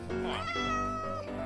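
A Minecraft cat meows once, a drawn-out rising and falling call up close and fairly loud, with nothing else over it.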